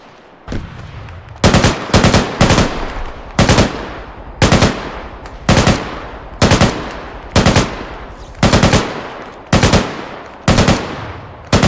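Machine gun firing in a video game, loud close bursts repeating at regular intervals, about ten sharp volleys each trailing off, with no talk.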